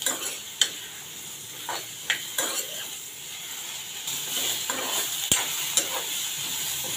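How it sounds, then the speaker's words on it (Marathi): Sliced onion being lightly sautéed in a pan for a spicy Konkani-style black chickpea masala: a steady close sizzle with scattered sharp clicks and scrapes of a spoon stirring against the pan. "कांदा आपल्याला हलका परतून घ्यायचा आहे, थोडासा हलका मऊ झाला पाहिजे असं परतून घ्यायचं आहे।"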